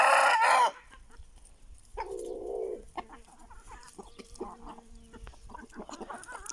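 Roosters, Aseel fowl, give a loud close crow at the start, then softer clucks and short calls follow intermittently at moderate distance.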